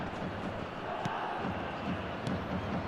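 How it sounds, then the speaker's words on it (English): A stadium crowd in an eFootball match roars in a broad, continuous wash of noise, steady and fairly loud, with a few faint sharp knocks cutting through. "the crowd are reacting to that now"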